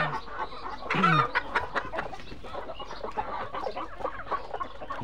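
Laying hens cluck softly in a busy coop, a scattered series of short clucks with one louder squawk near the start.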